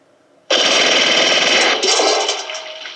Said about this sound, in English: I think he's shooting live ammo